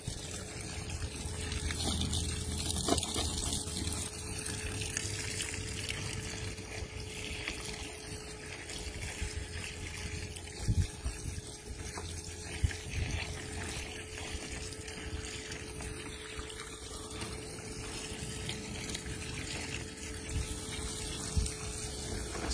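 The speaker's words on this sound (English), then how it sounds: "Spending more time filling up my cooler than I am watching y'all." Lake water pouring steadily into a bait cooler over ice to make a slush, a continuous splashing rush with a low pump-like hum throughout.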